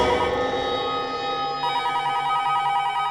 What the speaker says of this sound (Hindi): लगता है किडनैपर का ही फोन है।